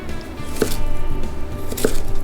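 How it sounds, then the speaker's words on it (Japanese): Two crisp knife chops through stacked daikon radish on a cutting board, spaced about a second apart, close and clear over a low background hum. "同じように5ミリくらいの幅に切ってください。"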